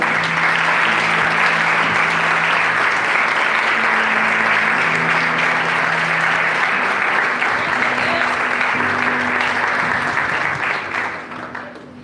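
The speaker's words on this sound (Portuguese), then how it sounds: "As palmas do louvor, Senhor." A church congregation claps together in worship, a thick, continuous wall of applause lasting about twelve seconds with a faint tonal hum underneath, tapering off at the very end.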